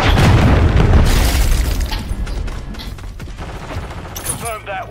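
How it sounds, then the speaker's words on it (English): Cruise missile strikes explode in the video game Helldivers II, with loud, deep, overlapping booms at the start that rumble down into scattered crackling blasts. "Friendly cruise missile deployed."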